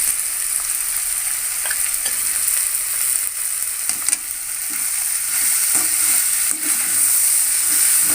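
Ivy gourd stir-fry with salt and turmeric sizzling steadily in a pan while being stirred, a continuous bright frying hiss with scattered soft scraping strokes, close and fairly loud, with no voices.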